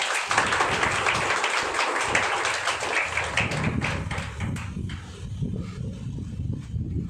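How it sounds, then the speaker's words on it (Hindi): Guests clap at an engagement ceremony, with brisk, steady applause that thins out toward the end as low murmuring and shuffling take over. "ताली बजाएं।"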